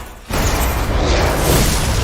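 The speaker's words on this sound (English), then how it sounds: "God damn, that explosion cost a lot of money." A movie explosion in the Netflix film Dangerous Lies, a sudden loud blast that bursts in after a brief quieter lead-in and then holds as a heavy, roaring wall of noise through to the end.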